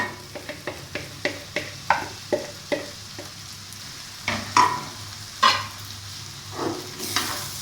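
Pre-fried okra tipped into a masala in a pan and stirred, a steady run of scraping spoon strokes with a soft sizzle underneath, close and moderately loud, no talking.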